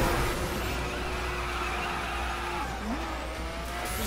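A car drifts with screeching tires in the video game The Crew, a steady engine drone and a long tire squeal running under the racing audio at moderate level.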